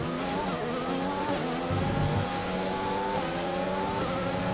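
A Formula 1 race car engine in F1 2020 whines at high revs on the final lap in Bahrain, pitch climbing through gears with quick shifts, steady and moderately loud.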